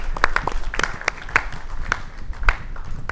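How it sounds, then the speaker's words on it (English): Scattered claps ring out from a small audience at a university startup pitch contest, sparse and irregular sharp hits rather than a full ovation, over low room noise. "Let's give them a round of applause, folks."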